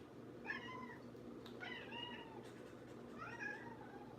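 A pet cat named George gives three separate meows spaced about a second apart, close and fairly quiet, with a low hum underneath.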